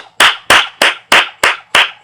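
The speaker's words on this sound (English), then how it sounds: "I'll give you a round of applause there, darling." A round of hand clapping, seven sharp, close, evenly spaced claps in quick rhythm, loud and alone.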